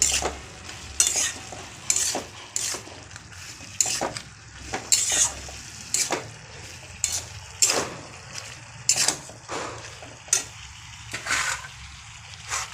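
Ground spices, Kashmiri chilli powder and ginger paste fry in a pan, a soft sizzle broken by repeated scraping stirs at a regular, unhurried rhythm.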